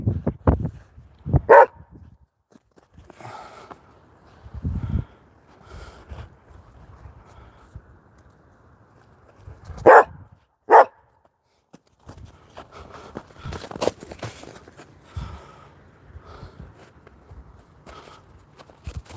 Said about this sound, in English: Oh, I hear you. Oh, you are a good puppy. You're just a loud mouth.